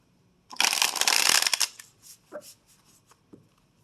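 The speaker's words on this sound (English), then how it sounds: "let's shuffle these cards back" A deck of cards is riffled in one quick burst, followed by a few soft taps and shuffles as the cards settle.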